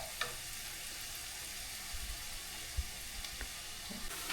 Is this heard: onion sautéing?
yes